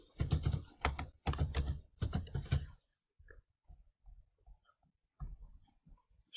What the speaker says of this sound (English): now we change and we type electronics.